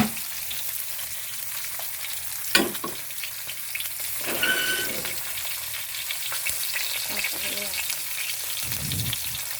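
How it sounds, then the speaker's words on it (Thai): Mackerel frying in oil over medium heat gives a steady, close sizzle with crackling and spatters. One sharp pop comes near the start, and faint voices sound briefly in the background. "ทอดให้ปลาทูอร่อยไม่ยากค่ะ เอาไฟกลางๆก่อนค่ะ"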